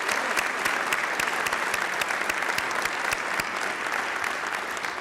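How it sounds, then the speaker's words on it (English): Sustained applause from a crowd at a memorial service, dense steady clapping that stays loud and even from start to finish with no voices over it. "Would you just join me by clapping once for David again, please?"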